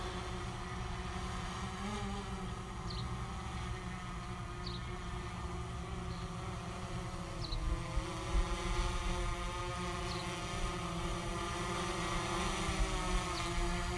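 A small camera drone flies in a steady hovering drone and sinks lower to land after a long flight, its motor whine constant and close beneath wind noise, with the pitch shifting slightly as it descends.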